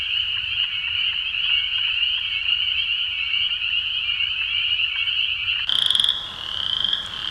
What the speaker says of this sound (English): Spring peeper.